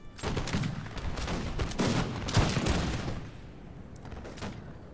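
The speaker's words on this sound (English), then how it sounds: "I'm going to get some shots off on the Swiss foot here." Rifle volleys fire in a Napoleonic-style video game battle against Swiss infantry, with ragged bursts of massed shots crackling one after another, dense for several seconds before thinning out.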